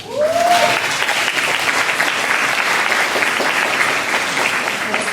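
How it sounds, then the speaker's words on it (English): An audience at a cancer workshop breaks into a round of applause for a woman invited to the front, dense sustained clapping close by, with a brief voice at the start. "Can we give her a round of applause?"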